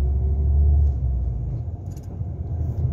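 A car engine runs steadily during a driving lesson, with a low rumbling drone and slight shifts in pitch as the car moves along, close and fairly loud, no voices heard.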